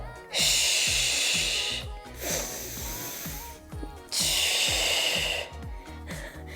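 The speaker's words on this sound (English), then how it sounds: "You like hearing my breathing in the mic, I'm sure." Heavy, close breaths during a bodyweight barre workout rush into the microphone in long hissing exhales and shorter inhales, repeating in a slow rhythm.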